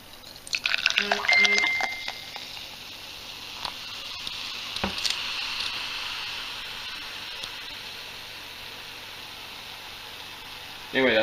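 Carbonated kombucha flavored with grape jelly pours into a glass, a close, fizzy patter and splash at first, then a steady soft sizzle of bubbles that fades into quiet.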